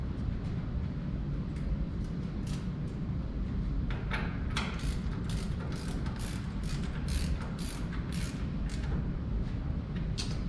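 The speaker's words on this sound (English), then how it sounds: "We're going to torque it down." Rapid ratchet wrench clicks come in bursts as caliper bolts coated with red Loctite are torqued down on a Mustang Bullitt fitted with Wilwood brakes, the ratcheting heard over a constant loud background hum.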